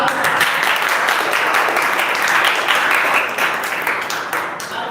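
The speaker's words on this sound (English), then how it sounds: "Please do the big clap." An audience in a class applauds loudly and continuously, dense clapping that holds steady before tapering slightly at the end.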